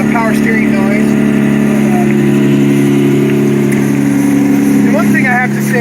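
Lexus SC300 engine idling smoothly, a loud, steady low drone lasting throughout, with a faint power steering whine and someone talking over it.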